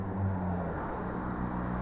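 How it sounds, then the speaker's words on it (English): Road noise from a car passing close by an e-bike rider on Main Street in Eagle Rock, New Jersey: a steady, loud low rumble of engine and tyres that holds for the whole moment with no talk. "Damn, car, that was pretty close to me"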